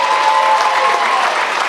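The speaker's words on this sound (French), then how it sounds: "on va redonner un autre bain d'applaudissements à Yann Terriot." Audience applause at a comedy show, a short, loud, continuous burst of clapping lasting under two seconds.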